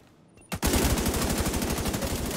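Rapid automatic gunfire in The Division 2 follows a single sharp shot: a loud, sustained burst of evenly spaced rounds that keeps going to the end.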